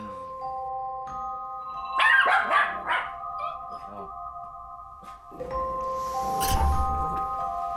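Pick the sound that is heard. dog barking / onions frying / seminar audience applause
dog barking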